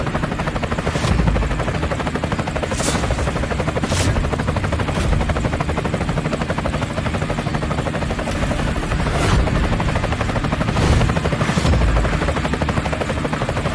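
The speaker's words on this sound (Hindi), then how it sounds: "अरे ये तो करोड़ों का हेलीकॉप्टर है" A helicopter's steady rotor roar fills the clip, loud and close throughout, with several sharp thumping bursts standing out over the drone.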